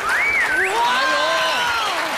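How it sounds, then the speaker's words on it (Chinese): A Taiwanese TV show studio audience breaking into applause: continuous dense clapping from a crowd, with excited vocal exclamations and talk layered over it. "疯狂掌声鼓励！"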